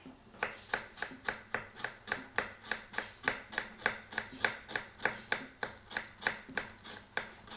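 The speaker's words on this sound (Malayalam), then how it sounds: "സോ ഇനി നമുക്ക് ഉള്ളി അരിയാം." A knife chops onions on a cutting board with a fast, very even rhythm of about twenty crisp taps, each striking the board at close range, with no talking.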